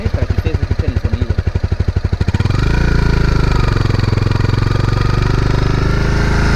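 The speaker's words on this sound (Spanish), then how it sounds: "Vamos a acelerarle a media revoluciones para que ustedes escuchen el sonido." A Honda CBR250R motorcycle engine chugs at idle with a rapid, even pulse, then is throttled up to medium revs into a loud, steady, close-up drone.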